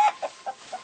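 Chickens cluck in GTA 5 during a peyote hallucination, with four short clucks spaced evenly, the first loudest and close, then three softer ones. No voices are heard.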